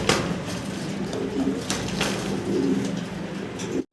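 American Lakkha pigeons cooing close by, soft repeated low coos over a busy background of wing rustles and other bird sounds.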